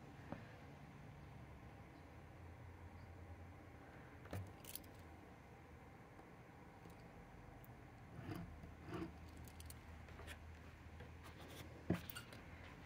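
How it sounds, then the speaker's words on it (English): A pen marks fabric along a ruler for a welt pocket on a trench coat, giving a faint, continuous scratchy rubbing with a few soft clicks and taps close by in a quiet room. "I'm just gonna draw it"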